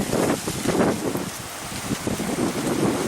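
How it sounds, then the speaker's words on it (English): Strong wind in Spring Valley, Minnesota roars and buffets the microphone in continuous gusts, with a rushing, rumbling texture and no voices. "It gets very windy at Spring Valley"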